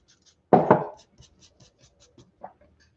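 Pencil strokes darkening a line on paper while sketching an atmospheric landscape: two close, scratchy strokes in quick succession, followed by faint light taps and rubs, with no talking.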